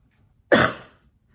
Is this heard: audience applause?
no